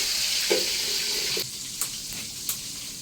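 Polao rice grains frying in a pan while polao and chicken are cooked at home: a bright, steady sizzle for the first second and a half, then quieter scraping with a few sharp stirring clicks.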